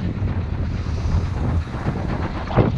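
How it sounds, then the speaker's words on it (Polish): Steady wind rushes and buffets across the microphone throughout on a road in northern Kazakhstan, a loud, continuous outdoor roar with no voices. "słonecznie, ale wieje"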